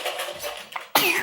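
A single sharp, explosive sneeze bursts out close by at the end, after a few moments of quiet, breathy, indistinct sound in a home kitchen.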